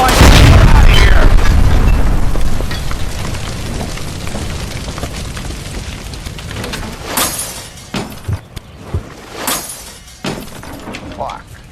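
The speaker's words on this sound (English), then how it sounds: "Shoot the gas line and get out of here!" A gas line explosion in the video game LA Noire, a loud booming blast at the start that rumbles and fades, followed by several sharp bangs and debris crashes, with a voice over the noise.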